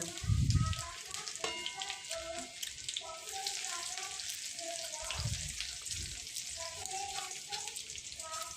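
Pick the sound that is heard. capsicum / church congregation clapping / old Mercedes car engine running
capsicum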